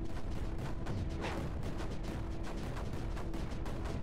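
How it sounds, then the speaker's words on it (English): Mortar turret destroyed in the strategy video game Creeper World 4, a dense, steady rumble of explosive booms and artillery-like blasts with a faint sustained tone running through it. "Is that one of my mortars getting destroyed"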